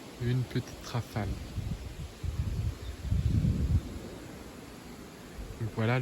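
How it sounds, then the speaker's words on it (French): Wind rumbles and rustles outdoors in a low, uneven wash while a person speaks briefly at the start and end. "Donc voilà le vent qu'on a aujourd'hui."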